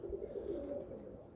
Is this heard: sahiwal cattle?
no